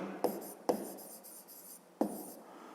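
A pen writes a math expression on paper at close range, with three sharp taps marking strokes between soft scratching, and no voices.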